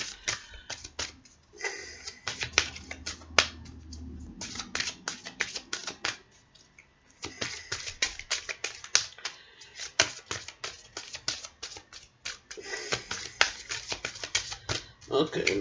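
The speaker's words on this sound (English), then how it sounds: "I'm just shuffling the cards." A deck of cards being shuffled by hand during a tarot-style card reading, heard as bursts of quick riffling clicks and flutters, with a short pause midway before the shuffling resumes.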